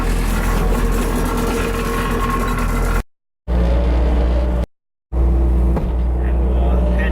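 A skid loader engine runs in subzero winter cold, a loud steady low rumble close by, broken by two brief dropouts before the drone resumes.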